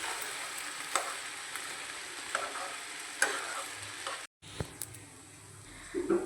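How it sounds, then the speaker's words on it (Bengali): Rice frying in a pan with salt and turmeric for basanti pulao, giving a steady close sizzle with light stirring scrapes and ticks, a brief gap, then the crackle resuming. "এরপর ভালো করে মিশিয়ে নিয়ে চালটাকে 30 থেকে 40 সেকেন্ড মতন ফ্রাই করতে হবে"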